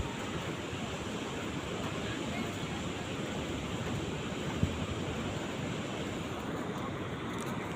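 Sea waves at Gomti Ghat in Dwarka wash in a continuous broadband surf roar mixed with wind noise on the microphone, steady and fairly loud with no clear speech.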